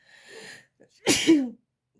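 A woman lets out a single loud sneeze, preceded by a short breathy intake and then a sharp burst, close to the microphone with silence around it.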